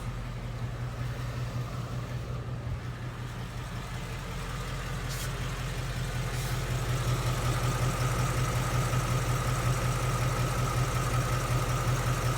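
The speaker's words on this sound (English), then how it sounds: "All you hear is some valve train noises that are considered as normal." A Ford Mustang 5.0 GT Coyote V8 idles steadily in the Phoenix heat, heard up close under the hood with a constant low hum and a fine, fast ticking of valve train noise, growing slightly louder midway.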